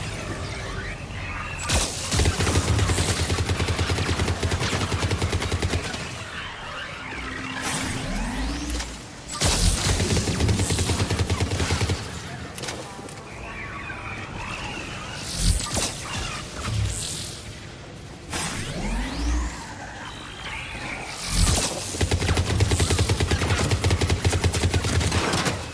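Heavy gunfire in a Mass Effect 3 multiplayer firefight on Firebase Reactor at Platinum difficulty, with rapid bursts, shattering impacts and whooshes repeating loudly and close throughout, with no talk.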